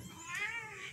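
A cat meows softly in a short, wavering call that rises and falls over about a second, faint and heard alone.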